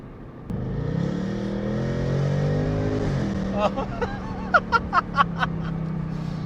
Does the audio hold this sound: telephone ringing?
no